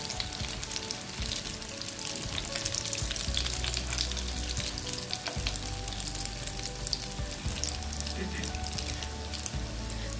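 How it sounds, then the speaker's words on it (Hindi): Chicken shami kababs fry in a pan, browned on one side, giving a steady, moderately quiet oil sizzle with crackles throughout, interrupted by light stirring and occasional scraping. "देखिए एक साइड से ब्राउन हो गया, अब दूसरी साइड से हम इसको कर लेंगे फ्राई।"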